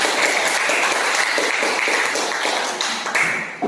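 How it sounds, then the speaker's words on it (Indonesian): A class of students claps together in a dense, steady burst of applause that fills the classroom, fading slightly at the end. "Tepuk tangan semua dulu."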